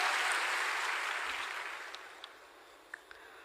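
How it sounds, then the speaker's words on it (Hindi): Hall applause at a Bihar government program rises as a full burst of clapping and then fades away, with a few sharper single claps standing out near the end. "एक बार जोरदार तालियों से हम सब आभार प्रकट करें"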